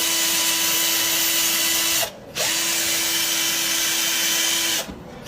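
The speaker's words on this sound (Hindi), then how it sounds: "अब ये फ्लेक्सिबल शाफ्ट आपकी ड्रिलिंग और स्क्रू बिट के काम को सरअंजाम देने के लिए बिल्कुल तैयार है" A cordless drill fitted with a flexible shaft and screw bit whirs steadily at close range, running nearly two seconds, cutting out briefly, then spinning up again for a longer steady burst before stopping.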